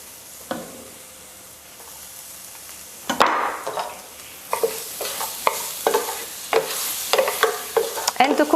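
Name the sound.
garlic sizzling in heated olive oil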